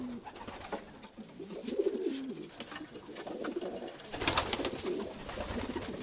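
Pigeons in a loft give soft, low cooing calls, a few rolling coos rising and falling at close range over faint background rustle and a brief higher flutter of sound.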